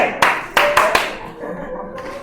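Students in a high school math class clap their hands a few times: four sharp, close claps in quick succession over the first second, then only a soft room murmur.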